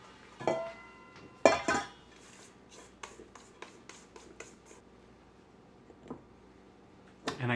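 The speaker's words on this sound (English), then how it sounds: "I'm going to scrape this into a bowl." A utensil scrapes strawberry shortcake batter off a beater into a bowl, giving quiet, close scraping strokes and a few sharper clinks and taps of metal against the bowl, with no talk over them.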